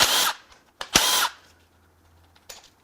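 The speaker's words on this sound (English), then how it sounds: "Let's unbolt this guide." Power tool unbolting a timing guide on a junk BMW N63 twin-turbo V8 during teardown: two short loud bursts of whirring impact drive, the second with a sharp start, then quiet rattling and a brief final tap.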